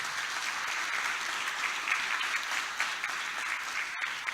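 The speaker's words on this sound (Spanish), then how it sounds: "suplico otro aplauso para nuestros hermanos por su esfuerzo" Audience applause for presenters at an academic conference hall, a steady dense wash of clapping from a crowd, moderately distant and continuous.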